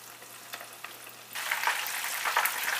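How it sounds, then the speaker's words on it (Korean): Chicken cutlets deep-frying in a generous amount of oil, a steady crackling sizzle that swells louder about halfway through and continues close and bright, with no talking. "자, 이렇게 해서 한 3분 정도 또는 4분 정도 튀기시면 됩니다"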